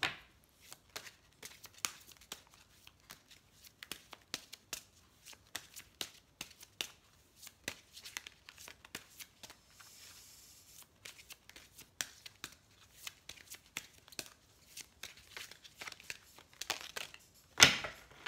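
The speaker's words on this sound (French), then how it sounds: "je vais demander aux anges de l'amour une petite carte" A deck of oracle cards being shuffled and a card drawn. Soft, quiet papery flicks and rustles repeat close by, with a sharper snap near the end.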